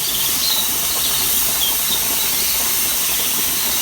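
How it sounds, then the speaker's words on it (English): Steam venting steadily from a pressure canner before the weight goes on, a loud, continuous close-up hiss with no change in level and no talking. "we've got a nice steady stream of steam there"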